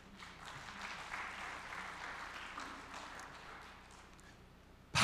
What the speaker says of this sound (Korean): 맞았으면 박수 한번 쳐주십시오